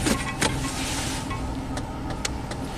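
A Nissan Xterra engine, running too rich, settles back to idle: a low steady rumble at moderate level with a few short clicks and ticks scattered over it.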